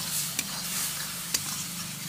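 Masala with turmeric and coriander powder frying in oil, a steady close sizzle broken by two quick scrapes of a spoon stirring.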